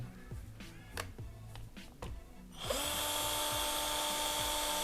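A cheap cordless drill priced around 500 baht spins up after a few clicks and taps on its trigger and switch, then keeps a steady, loud, high-pitched whine close by.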